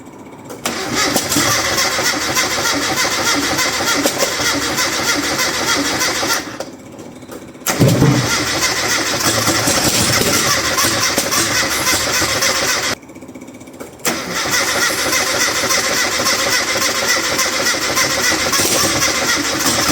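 A carbureted engine fitted with a new carburettor cranks and sputters, catching into loud ragged revving in long bursts, with brief pauses between attempts, close up throughout.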